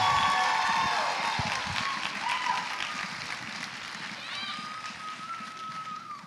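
Crowd applause and cheering for Miss Utah for America Strong pageant contestants at the Utah America Pageants finals, sustained clapping with a few whoops, gradually easing over several seconds.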